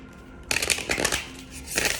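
Angel Tarot cards are shuffled close by, a burst of quick riffling, flapping card noise starting abruptly and repeating in short rustling waves with a brief lull before a final flurry.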